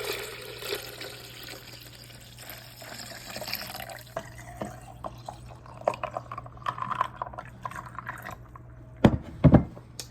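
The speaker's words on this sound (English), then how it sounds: "Now I just pour the whole thing because it can all fit in here." Liquid pours into a vessel in a steady trickle at moderate distance. It fades into scattered drips, and a couple of sharp clinks come near the end.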